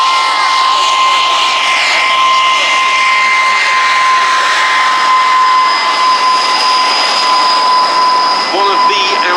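A loud, steady propeller engine of a Douglas Dakota aircraft drones continuously nearby at an air show at Duxford, with a sustained whine throughout.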